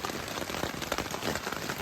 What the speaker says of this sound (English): This is definitely an ambitious little rain event.